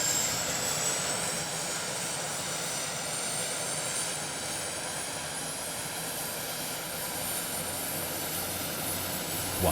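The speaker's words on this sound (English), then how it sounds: "When starting the engines, you can immediately hear the difference. The turboprop sounds like a jet" A Turbo DC-3's turboprop engine roars continuously with a high, rising whine over a dense rushing drone, steady and loud with no talking.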